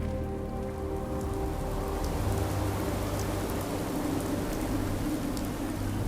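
Steady rain falling in a Fallout radio drama, a dense, even hiss of drops on surfaces that continues unbroken throughout, with faint low rumbling beneath.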